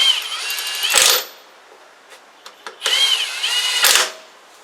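Power tool running lug nuts onto a landscaping trailer wheel during a flat tire change: two loud whirring bursts ending in impact rattles, separated by light metallic clinks, close up with no talking.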